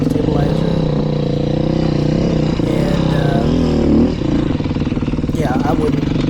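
A 2020 Beta 500 RR-S dirt bike ripping through desert sand, its engine droning loud and steady with rising and falling revs, heard close from the rider's position throughout.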